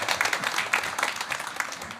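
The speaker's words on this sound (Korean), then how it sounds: "한번 박수 줄까요?" Light applause from a church congregation for the kindergarten children's scripture reading, a short patter of scattered clapping at moderate distance.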